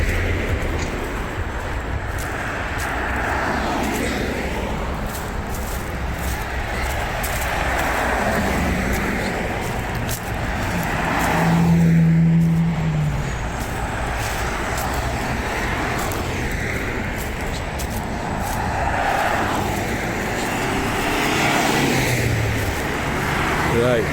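Continuous road traffic roar at a motorway interchange near Stirling, Scotland, with cars and trucks passing, a deep engine drone swelling around the middle, and people talking over it.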